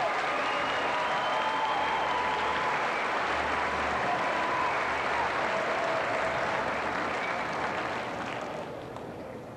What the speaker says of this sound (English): Let's give that whole group another round of applause.